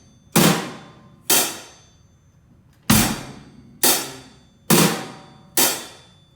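Drum kit beat in which hi-hat strokes fill the 2 and 4 counts, heard as six crisp, ringing hits at a steady but uneven pulse, each decaying quickly, close and alone with no talking.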